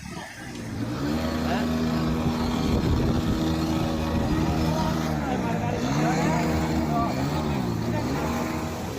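Several short, harsh coughs from a person with a cold and light fever burst out close to the microphone, separated by brief pauses of quiet.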